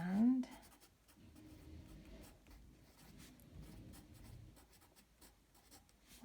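Handwriting on paper, a pen or pencil scratching softly in short strokes close by, faint and continuous under a quiet room, with a voice briefly heard at the start.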